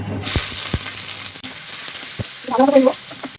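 Spice paste frying in a pan, a close crackling sizzle broken by a few sharp clicks and stirring scrapes, with a brief tonal squeak near the end.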